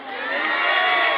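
A crowd at an evening vendors' party at Villamor Airbase, Pasay City, shouts a greeting back in unison, a loud, dense burst of many voices that swells and holds steady.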